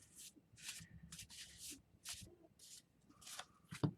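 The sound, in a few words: shuffling tarot cards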